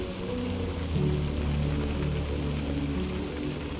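Steady rain falling across an open landscape in the video game Death Stranding 2, a dense, even hiss that holds at one level throughout, with low droning tones running underneath.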